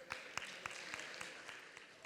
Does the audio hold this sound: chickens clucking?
no